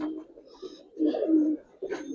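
Giribaz pigeons coo in a few low, throaty bursts, close by and fairly quiet, with short pauses between phrases.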